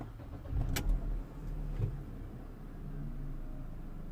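A Mercedes C180 W203 car engine cranks and catches, with a short burst of starter noise and a couple of sharp clicks, then settles into a low, steady idle rumble nearby.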